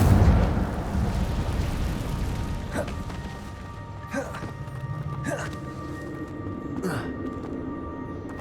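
A fire spell bursts in Hogwarts Legacy gameplay, a low rumbling whoosh with crackling flame under game music and a spoken voice, followed by several sharp swooshing effects.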